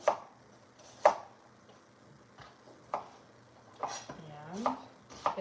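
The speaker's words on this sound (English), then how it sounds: "So we'll get these diced up." A knife dices food on a cutting board for minestrone soup: a handful of sharp, separate chops spaced roughly a second apart, close and fairly crisp, with a brief whistling tone near the end.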